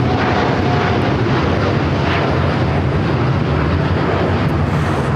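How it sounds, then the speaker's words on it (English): A United Airlines Boeing 787-9 Dreamliner takes off at LAX, a loud, steady broadband jet roar filling the whole stretch with constant intensity and no voices. "This is United Airlines 198 taking off to Shanghai on the 787-9 Dreamliner."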